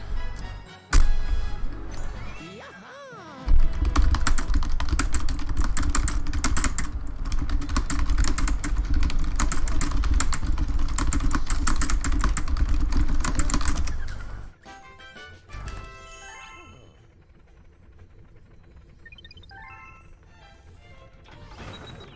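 Rapid computer keyboard typing clatters alongside Super Mario Galaxy 2 game sounds, busy and loud for most of the stretch before dropping to a quieter, sparser section near the end.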